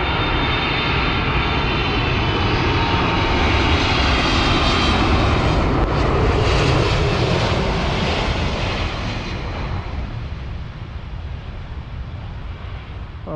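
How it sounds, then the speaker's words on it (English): Douglas DC-3 propeller airliner coming in to land at a busy Anchorage airport, a loud, sustained piston-engine roar passing close by and then slowly fading. "I'm pretty sure that's a DC-3 coming in"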